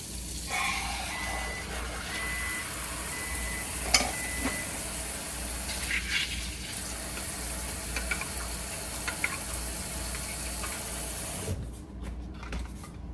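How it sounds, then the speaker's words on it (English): Tap water runs steadily into a pan in a home kitchen sink, a broad hissing rush that holds for most of the stretch, with a spoon clinking faintly against the sides near the end. "So you can hear the sink going."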